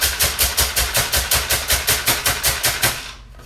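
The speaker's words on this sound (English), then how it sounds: "we're starting by just chopping up candy canes, basically making a dust out of it" A knife chops candy canes into a fine dust on a board, a fast, even series of about fifteen sharp crunching strikes, loud and close, ending abruptly.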